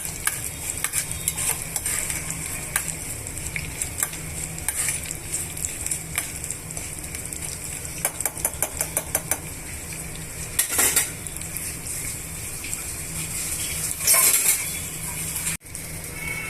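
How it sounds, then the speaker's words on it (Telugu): Chana dal, curry leaves and dried chillies fry with a faint sizzle as a tempering in a pan for potato curry. A utensil stirs against the metal throughout with frequent scrapes and light clinks, and nobody talks. "ఇప్పుడు ఈ తాలింపునన్నిటితో కూడా బాగా వేగనివ్వాలండి"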